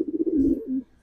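Pigeons cooing in a breeding loft, a single soft, low rolling coo that swells and falls in one close, moderately loud call before fading.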